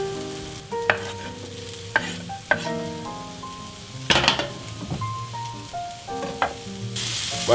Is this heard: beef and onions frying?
yes